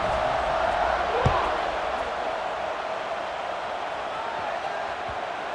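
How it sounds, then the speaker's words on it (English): Steady stadium crowd roar at a college football game between Georgia and Penn State in the video game College Football 26, a dense continuous wash of massed voices ahead of a kickoff, with a brief thump near the start. "They're set to kick it off, and this crowd now ready to get behind them."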